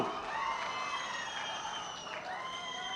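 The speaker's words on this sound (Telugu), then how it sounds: "గట్టిగా చప్పట్లు కొట్టి అభినందించండి" A crowd at a political speech in Macherla claps and cheers in a steady, fairly distant wash of applause, with scattered shouts and whoops rising above it.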